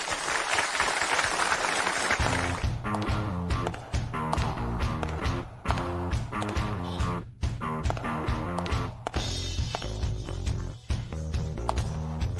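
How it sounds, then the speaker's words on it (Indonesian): An audience applauds on stage, welcoming a mystery guest. At first the clapping is alone and dense, then it continues under a loud, rhythmic music track with a pounding beat. "Mari kita sambut dengan tepuk tangan meriah tamu misterius spesial kita malam ini"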